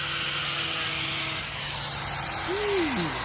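Hercules power tool from Harbor Freight whining steadily while building a wooden frame for a fish tank, a continuous tonal motor drone with a brief rising and falling pitch sweep near the end.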